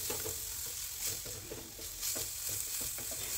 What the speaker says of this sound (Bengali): তারপর 4 থেকে 5 চামচ মতো পেঁয়াজ কুচি দিয়ে সেটাকেও বেশ ভালোভাবে ভেজে নিলাম।